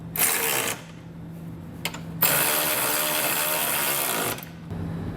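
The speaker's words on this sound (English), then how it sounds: "we'll come back with a 19mm socket and snug everything down" A ratchet fitted with a 19mm socket snugs down the bolts of a Curt trailer hitch receiver on a 2013 Lincoln MKT, making loud, sustained mechanical whirring and clicking in several bursts with brief pauses between them.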